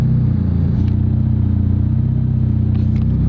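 A McLaren 720 GTR Carbon idling roughly with its engine warning light flashing: a loud, close, steady low rumble with an uneven, lumpy pulse and faint clatter, no talking.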